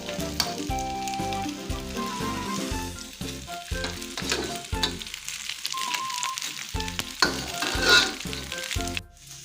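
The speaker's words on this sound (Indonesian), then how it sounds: "Karena aduk-aduk nasi gorengnya." Nasi goreng fries and sizzles in a pan with irregular scraping and stirring strokes, close and moderately loud, while background music plays underneath.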